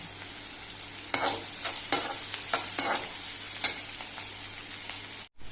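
Chopped onions frying in a pan for a Goan chicken chili fry, with a steady sizzle and a low hum underneath. Several sharp scrapes of the spoon stir through them, then it goes briefly silent near the end.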